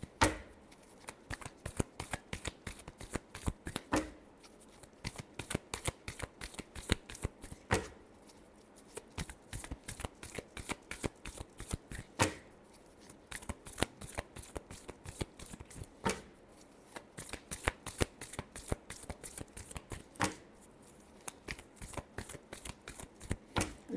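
Tarot cards being shuffled in a long run of rapid, crisp riffles and flutters, with short pauses between bursts and no talking, close and steady throughout.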